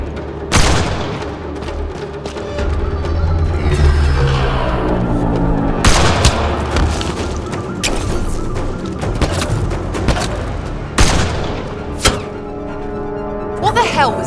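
Gunfire and heavy booming impacts in the video game Mass Effect: Andromeda: irregular shots and thuds over a continuous battle din, with in-game voices heard among the blasts.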